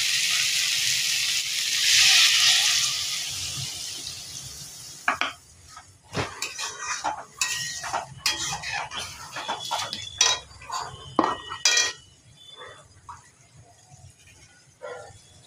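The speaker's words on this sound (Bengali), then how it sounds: "এবারে জল দিয়ে দেবো।" Water poured into a pan of simmering vegetarian soybean and potato curry: a bright, hissing rush for a few seconds that fades out, followed by scattered clinks and scrapes of a utensil against the metal pan.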